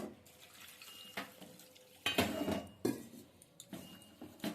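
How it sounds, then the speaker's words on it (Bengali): Soaked lentils and vegetables are rinsed under a running tap, with water splashing and sloshing in irregular bursts and a few clinks of a pot or utensil, close and moderately loud. "এবার ভালো করে আমি ধুয়ে নিচ্ছি"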